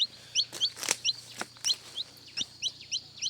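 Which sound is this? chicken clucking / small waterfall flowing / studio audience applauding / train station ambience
chicken clucking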